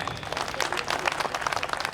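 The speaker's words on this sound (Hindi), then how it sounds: "इसके लिए ये ताली के हकदार तो हैं।" Applause from an audience at an Ambedkar Jayanti celebration for a group of performers after their act, dense clapping sustained steadily throughout with no voices over it.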